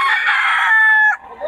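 A bull stag rooster at a gamefowl market crows once, close and loud, holding a strained call for about a second before it breaks off.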